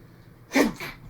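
A single sharp human sneeze bursts out close by in a quiet room, a short forceful blast followed by a softer trailing breath.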